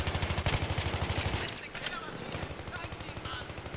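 Automatic KH2002 rifle fire in Battlefield 3 rattles in dense, rapid repeated bursts, loud and continuous with a brief pause midway before the shooting resumes.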